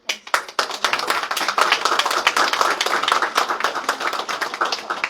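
Applause from an audience at the opening of a new building of a rehabilitation centre in Lviv, dense and steady clapping that starts sharply and holds loud throughout.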